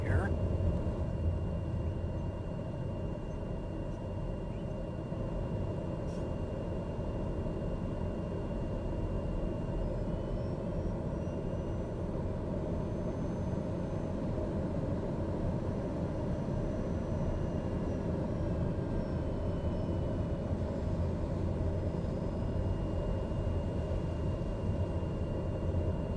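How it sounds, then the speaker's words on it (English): A steady, even engine roar and rumble from an aircraft configured for takeoff as it rolls onto the runway, heard from inside over a continuous broadband hiss, with a voice talking over it. "And we are fully configured for takeoff, so we can roll right in"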